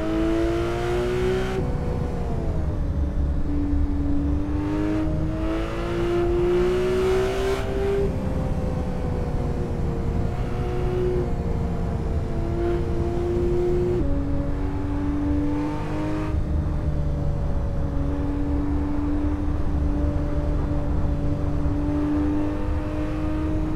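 A car engine in the racing game Assetto Corsa, driven on the short Akina Lake track. It revs loudly and continuously, climbing and dropping in pitch through repeated gear changes, with no voices.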